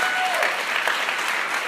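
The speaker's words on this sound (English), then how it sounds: "so you guys can clap or whatever" A comedy show audience applauds in a steady, dense wash of clapping that holds evenly from start to finish, close and fairly loud.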